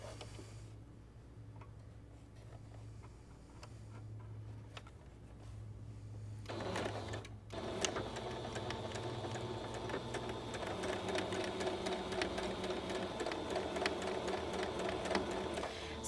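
A sewing machine stitches bias tape onto a pillowcase dress. After a quiet, low hum it starts up loud and close, a dense steady whir with fast mechanical ticking that runs on to the end.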